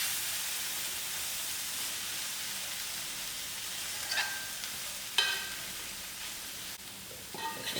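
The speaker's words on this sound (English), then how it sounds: "I'll stir it in, give it another 5 minutes to cook out" Soya chunks sizzling softly in a pan with salt, a steady hiss of frying punctuated by a few clinks and scrapes of a spoon stirring.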